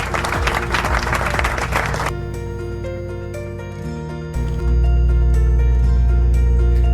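Hand clapping bursts out for about two seconds during an unboxing of a V8 sound card, then gives way to sustained electronic musical tones.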